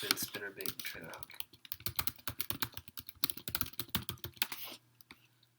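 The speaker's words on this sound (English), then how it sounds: "Let's type in spinnerbait trailer hook." Rapid typing on a computer keyboard, close and crisp: bursts of quick clicking keystrokes that run for several seconds before stopping, with no talking.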